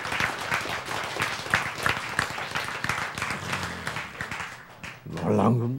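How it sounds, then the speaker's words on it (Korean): Lecture audience claps in a brisk, uneven burst of many hands that fades toward the end, where a voice resumes speaking. "박수. 예, 박수."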